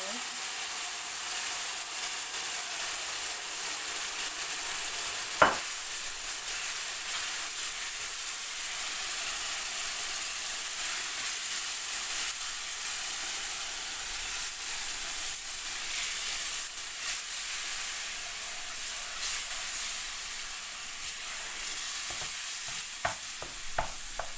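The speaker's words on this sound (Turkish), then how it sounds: "Şimdi şerbetini ekliyorum." Syrup poured into hot flour halva as it cooks, producing a continuous loud hiss and sizzle throughout, with one sharp clack early on and a few scraping stirring knocks near the end.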